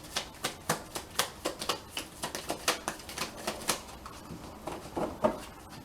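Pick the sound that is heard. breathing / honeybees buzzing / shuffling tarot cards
shuffling tarot cards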